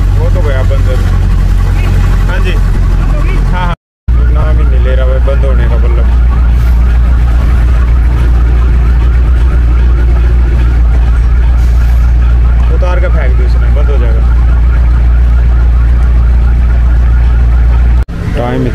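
A Jeep engine keeps running loud and steady after a new alternator was fitted and will not shut off, giving a constant low rumble that drops out briefly once, with voices talking over it.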